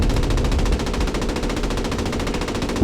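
Sustained automatic gunfire in the World War II shooter game Post Scriptum, a loud continuous machine-gun burst with rapid evenly spaced shots lasting the whole stretch, no talk.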